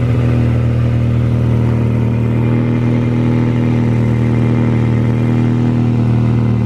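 A Honda Civic's B16 engine idles steadily and close by, with an exhaust leak puffing at a welded hanger; the low, even drone holds without revving and no one speaks.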